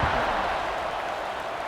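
A dense, steady stadium crowd roar fills a College Football 26 game before kickoff in Louisville versus Virginia, holding at an even, loud level throughout without breaks.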